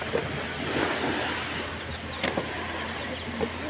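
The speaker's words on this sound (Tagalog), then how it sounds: "Tapos lakas ng alon." Strong sea waves surge in a steady, broadband wash with wind buffeting the microphone, moderately loud and continuous without speech.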